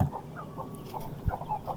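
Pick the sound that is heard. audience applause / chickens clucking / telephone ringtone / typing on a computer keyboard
chickens clucking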